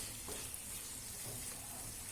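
Spices for tomato chutney fry in a pan with a soft, steady sizzle, faint and even throughout with no voices.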